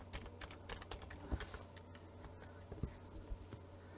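Login password being typed on a computer keyboard for an Openspot hotspot, heard as quiet, irregular key clicks with a couple of sharper taps against a low steady hum.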